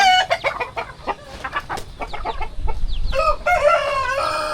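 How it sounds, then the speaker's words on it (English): Chickens on a farm in a Philippine province cluck in quick, loud bursts before a rooster crows clearly up close, with no voices over the birds. "The problem is where we get like this kind of chicken, James."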